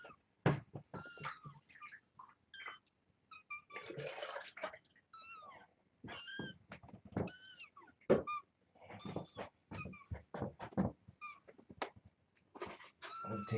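Kittens meowing in a series of short, high, harmonic cries, close and fairly loud, some overlapping, mixed with rustling and a brief burst of running water.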